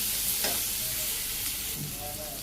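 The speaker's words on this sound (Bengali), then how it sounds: "পেঁয়াজ কুচিগুলো দিয়ে দিচ্ছি দুইটা কাঁচামরিচ খালি করে দিলাম তো হবে ভাজি করে নিই হালকা লাল লাল করে" Chopped onions and green chillies frying in a pan: a loud, dense, continuous sizzle close up, with brief stirring scrapes layered on top, no voices.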